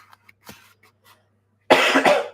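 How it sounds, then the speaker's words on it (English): A person coughs twice loudly and close by in quick succession in a home kitchen during a live baking stream, after a few faint small clicks and knocks. "coughing."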